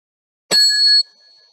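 A single bell is struck once during a conference talk, a clear metallic ding that rings loudly for about half a second and then fades into a faint sustained tone, alone in silence.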